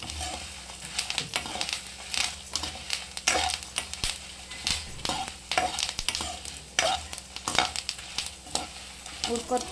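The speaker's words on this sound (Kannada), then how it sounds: "ಈಗ ಬ್ಯಾಡಗಿ ಮೆಣಸಿನ್ಕಾಯಿ, ಇದನ್ನ ಹುರ್ಕೋಬೇಕು." Dry Byadagi chillies roast in a pan with steady stirring, close scraping and light rattling strokes over a faint continuous sizzle, in a recipe for wedding-style vegetable sambar.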